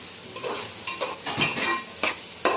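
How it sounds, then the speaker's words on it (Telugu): Sliced onions fry in hot oil in a pot for fish pulusu, a soft close crackle broken by several sharp scraping stirs at irregular intervals, with no talking. "ఇదిగోండి ఆనియన్స్ వేసేసాను."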